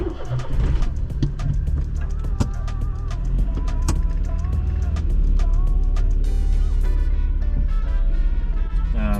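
Perodua Nippa car driving with a steady low engine drone and road noise inside the cabin, punctuated by clicks and rattles.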